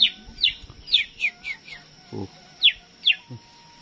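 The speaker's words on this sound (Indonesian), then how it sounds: "Ada burung kutilang, sahabat." Several bright, short calls of a sooty-headed bulbul repeat at irregular intervals, clear and fairly close, over a low background rumble with a brief thud.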